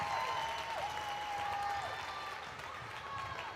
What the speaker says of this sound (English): Crowd are ecstatic.